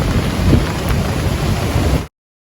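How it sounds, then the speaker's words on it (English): Heavy rain pours down in a dense, steady hiss on the coast at Durban, South Africa, loud and close, then cuts off abruptly. "I love the rain and I love to get drenched in the rain"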